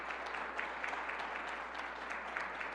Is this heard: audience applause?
yes